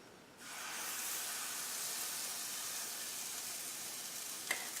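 Purple sweet potato pancake batter sizzles in a skillet over medium heat, a steady, close frying hiss that starts abruptly and holds evenly, with a small clink near the end.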